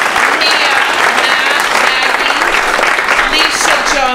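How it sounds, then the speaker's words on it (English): Steady, dense applause from an audience honoring library staff at a community awards event, loud and continuous with scattered voices mixed into the clapping. "Actually, we do need to applaud for them."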